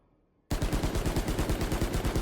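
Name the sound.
rifle gunfire in the video game Valorant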